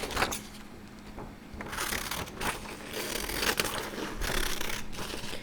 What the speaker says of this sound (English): Then we're going to cut the next page.